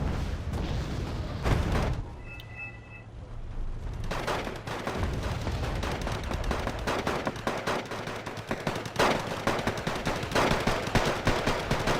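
Caesar self-propelled artillery firing in the Wargame Red Dragon video game, loud booming shots and rattling gunfire in irregular bursts over continuous battle noise.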